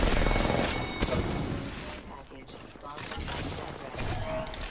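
Dense gunfire and explosive crashes in Apex Legends, loud and continuous at first, thinning in the middle, then building again, with game effects layered throughout.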